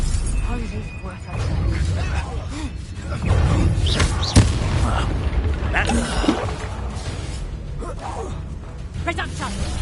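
Fiery Confringo blast spells in the Hogwarts Legacy video game, a sharp crack near the middle amid dense booming combat noise and shattering impacts, with a voice shouting over the fight.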